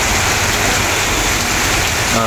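Steady, dense rain pours down in Haripur, a loud even hiss filling the whole moment without a break.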